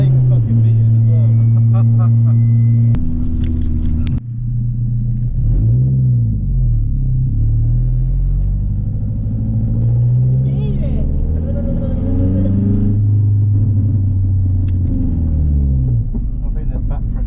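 Stage 3 tuned Ford Fiesta ST180 by RCS Tuning driven hard on the Castle Combe circuit, its engine droning and rising and falling in pitch through gear changes, heard steadily from inside the car alongside occupant talk.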